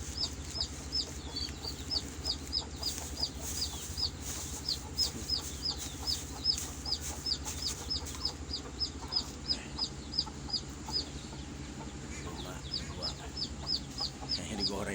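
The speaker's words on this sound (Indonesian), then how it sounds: "biarin ayam ini bermain di kandang ini sampai dia bisa lompat" Chickens clucking and chirping in quick repeated bursts, fairly close, with faint background noise and occasional louder calls.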